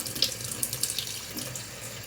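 Tap water runs steadily into a sink as a hand is rinsed under it, with small splashes and irregular spatter over a continuous close-up flow.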